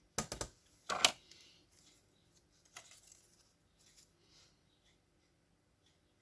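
Scissors cut paper for a flipbook: a few sharp snips come close together at the start, then softer, sparser cuts and paper rustle in a quiet room.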